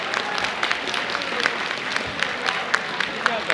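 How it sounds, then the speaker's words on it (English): Audience applause at a cosplay convention blind date game show, Eirtakon 2014, a steady wash of clapping from a crowd with a few sharper nearby claps standing out throughout. "Let's give our bachelors a round of applause for their answers."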